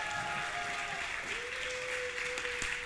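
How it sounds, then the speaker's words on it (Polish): Clapping from a festival crowd at a summer women's city event, a dense, steady patter of many hands that carries on without a break, moderately distant, with a faint sustained tone running underneath. "Jarosław Boberek, brawa!"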